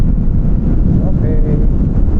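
Low, steady rumble of wind buffeting the microphone outdoors, constant throughout with a faint whine rising briefly in the middle.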